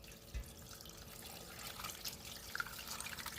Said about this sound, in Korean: 이제 물 넣고요.